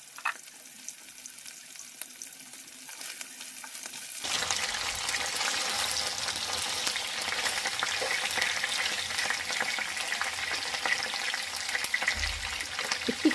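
Chicken frying Nepali style in a pan gives off a loud, steady sizzle that starts at about four seconds. It keeps going with crackling and some stirring, and there is no talk.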